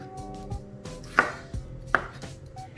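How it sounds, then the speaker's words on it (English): A knife slices through a vine tomato on a cutting board, making a few separate crisp cuts that end in clear taps on the board, close and fairly quiet, with no talking. "We'll slice them like this, about a quarter inch thick."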